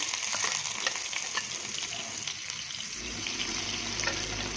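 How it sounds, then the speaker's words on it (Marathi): Chopped onion sizzles steadily in oil with fried mustard seeds, the base for a spicy chickpea curry. The frying stays close and continuous, with stirring scrapes in the pan and no talking. "मोहरी तळून झालेली आहे. कांदा घालते आता"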